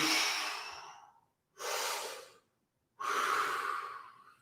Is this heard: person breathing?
yes